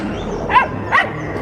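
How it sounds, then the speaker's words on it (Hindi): A dog in a Hindi horror story barks twice, two separate mid-pitched woofs about half a second apart over a quiet background. "मीरा के रात के सपने के तरह ही पौमी सचमुच भौंकने लगा था।"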